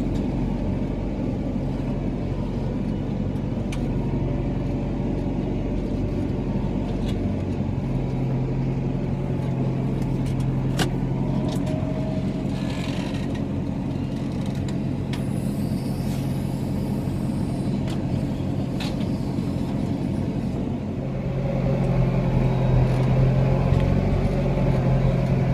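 A Fendt tractor plows a field crosswise at low speed, its diesel engine giving a steady, moderately close rumble with rattling and knocking, then growing louder and rougher near the end.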